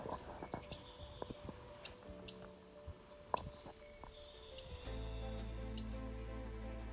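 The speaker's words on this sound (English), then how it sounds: "One of the best birds I found on my walk was this morning warbler." A mourning warbler sings outdoors near badlands, sending short bright chirps and notes at irregular intervals, fairly faint amid other small clicks and rustles, before a steady low rumble takes over near the end.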